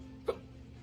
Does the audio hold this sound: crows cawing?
no